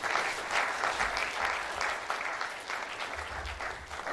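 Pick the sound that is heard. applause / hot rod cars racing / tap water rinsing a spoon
applause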